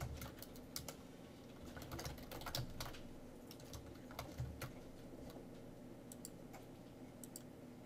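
Rapid clicks of fingers typing on a computer keyboard, irregular bursts of keystrokes with short pauses, close and fairly quiet.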